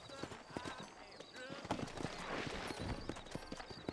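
Horse hooves clip-clop in Red Dead Redemption, a steady rhythm of close hoofbeats with a brief whinny, running under continuous talk.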